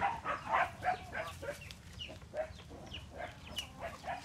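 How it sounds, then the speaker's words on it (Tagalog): Several chickens cluck and squawk restlessly near at hand, a busy run of short calls begging for food, with rooster-like notes mixed in and no talking. "So napakakulit ng mga manok natin dito. So humingi pa ng pagkain."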